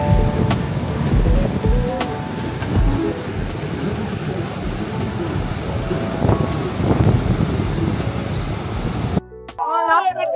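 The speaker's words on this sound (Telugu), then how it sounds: "ఇప్పుడైతే మనం ఈ నైగరా ఫాల్స్ చాలా క్లోజ్ గా దగ్గరగా వచ్చాము." Niagara Falls heard from a boat close to the falls: a continuous broad roar of falling water mixed with heavy wind buffeting the microphone, ending with a short burst of voice.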